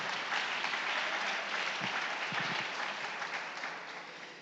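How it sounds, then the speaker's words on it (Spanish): A church congregation applauds in a steady wash of many hands, fairly even at first, then gradually thinning and fading toward the close, with a few faint voices underneath. "Si quiere aplaudir, aplauda."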